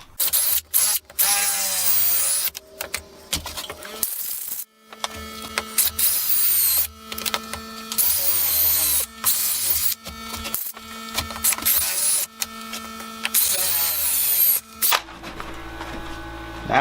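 A power drill with a bigger bit bores into a wood turning, making repeated loud whirring bursts that start and stop, with short pauses and clicks between runs.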